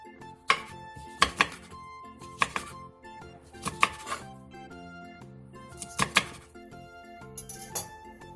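A knife slices through skewered fish cake on a cutting board in repeated bursts of firm chopping thuds, each group a few quick cuts separated by short pauses, close and clear with no talking.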